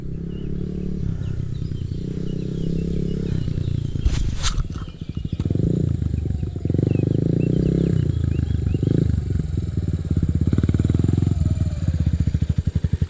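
A 150 SX dirt bike engine revs and drones up close, its pitch rising and falling as it rides, with a short sharp burst partway through.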